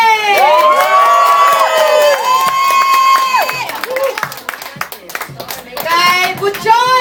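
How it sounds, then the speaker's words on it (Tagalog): An audience at a lively contest cheers and claps in loud bursts, with shouting voices and whoops rising and falling over rhythmic applause, close and energetic. "Palakpakan lang ha?"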